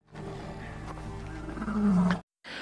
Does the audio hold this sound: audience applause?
no